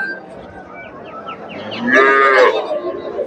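A Sahiwal cow lows once, loud and close, a drawn-out moo with no voices over it.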